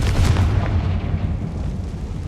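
The Confringo fire spell blasts in Hogwarts Legacy as a heavy booming burst, a loud, low, rumbling explosion that quickly fades into a dull roar; no talk.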